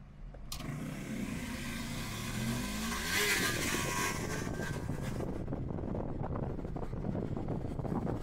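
A Citroen C5 Aircross accelerates on a road trip from Muğla to İzmir, a steady engine drone with wind noise building and holding loud and close, heard from inside the cabin with no talking.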